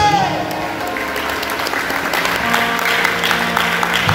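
Church audience at a youth campaign service applauding, a continuous wash of clapping with sustained music tones underneath and voices mixed in.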